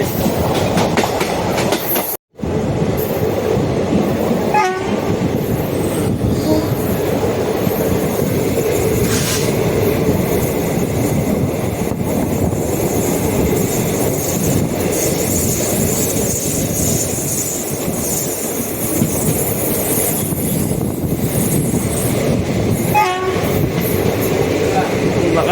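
A passenger train hauled by an electric locomotive rumbles past steadily with rhythmic clickety-clack of wheels on rails, fairly close, with a brief horn-like tone and a short dropout early on.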